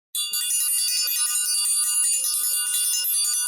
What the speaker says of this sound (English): we're ringing the bell for that.